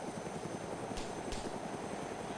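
A video game plane flies with a steady, droning engine and propeller hum, faint and continuous, with a couple of brief higher bursts partway through.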